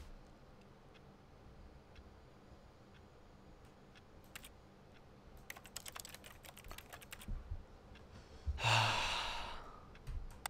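A rapid flurry of computer keyboard key presses while playing The Stanley Parable, the clicks close and crisp, followed by a loud breathy exhale.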